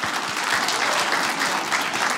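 Studio audience at a stand-up comedy show breaks into steady, dense applause, loud and close, with many hands clapping continuously and no speech over it.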